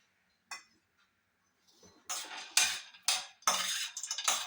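Raw peanuts stirred in a dry pan for roasting, a few scattered rattling scrapes that build into repeated loud bursts of nuts tumbling against metal.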